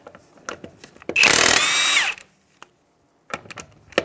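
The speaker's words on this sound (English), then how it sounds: "We'll go ahead and take off our lug nuts now." A power tool zips off a 21 mm lug nut on a front wheel of a 2007-2015 Mazda CX-9 in one loud, close burst of just under a second, with faint clinks and handling noise before and after.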